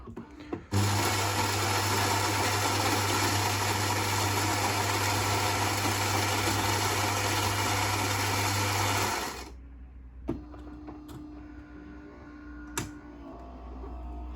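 A Philips coffee machine that dispenses too little coffee runs with a loud steady mechanical hum and whir for several seconds, then stops, leaving a quieter hum and a few clicks.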